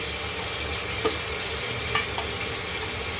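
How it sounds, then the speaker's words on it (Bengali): Fish fries and sizzles in spiced gravy in a pan, a dense steady crackle with a few sharp pops and spoon clinks, close and loud with no talking. "এবার মাছটাকে দিয়ে কষিয়ে নেব"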